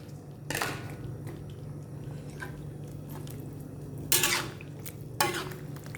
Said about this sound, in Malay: Kita masukkan kacang buncis ya.